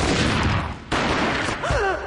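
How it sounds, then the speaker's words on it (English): Gunfire in the video game Max Payne Mobile: a loud, dense burst of booming shots with a brief gap midway, then a sustained roar that continues through the rest. "A gunshot boomed and she fell down in slow motion."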